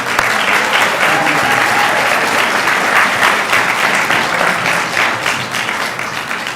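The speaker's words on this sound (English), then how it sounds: "Isabel, round of applause." Steady, loud applause from an award ceremony audience at a national science fair final, sustained without a break and filling the room.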